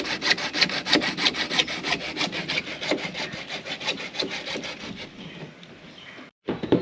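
A hand saw cuts through an old plastic water tank in fast, regular back-and-forth rasping strokes, loud and close, slowing and fading briefly near the end with no talking.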